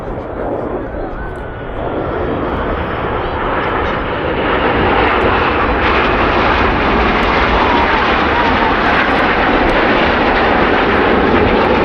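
Red Arrows display jets roll around a smoke trail in a corkscrew at an air show, a loud, continuous engine roar that builds and stays heavy throughout. A commentator talks underneath.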